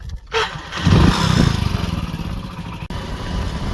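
A motorcycle engine starting and pulling away outdoors on a scenic rural ride, loud and close, with a steady rumbling drone after a brief rev.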